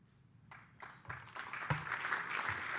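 Audience applause at a 2016 mental health association gala, starting sparse and swelling into steady, dense clapping from a crowd of diners, moderately loud and with no talk over it.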